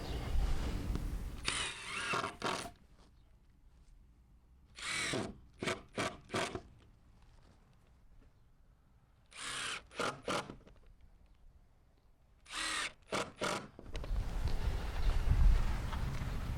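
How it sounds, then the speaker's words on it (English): A power drill drives screws into wooden fence boards in short whirring bursts grouped in clusters, separated by quiet pauses, over outdoor background noise. "I'm just going to throw some screws into this"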